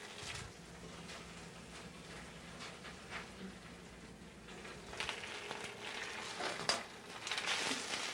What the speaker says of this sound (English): another pan, spinach is wilted in olive oil